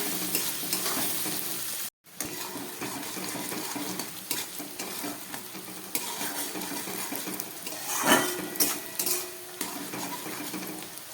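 Onion and capsicum frying in a pan, with continuous sizzling and repeated scraping stirs of a spatula against the metal, close and steady apart from a brief cutoff near the start.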